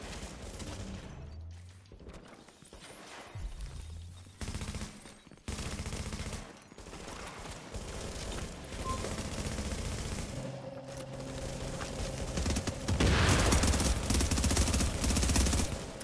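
Rapid bursts of gunfire in the video game The Division, automatic weapons chattering with heavy booms, continuous and loud with a dense barrage near the end.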